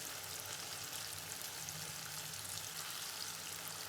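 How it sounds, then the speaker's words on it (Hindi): Meat pieces frying in hot cooking oil over medium to high flame for a smoky yogurt mutton curry, a steady dense sizzle with bubbling and crackle throughout, close and continuous, no talking. "मीडियम टू हाई फ्लेम पर गोश्त के दोनों साइड फ्राई कर लेने हैं।"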